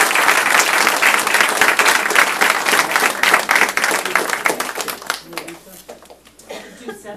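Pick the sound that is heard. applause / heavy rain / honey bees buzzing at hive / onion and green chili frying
applause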